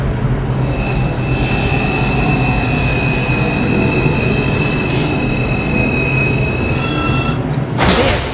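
An NYC subway R142 train on the 5 line runs loud and steady on its own, a constant rumble of wheels on rail with faint high wheel squeal laid over it and a brief burst of noise near the end.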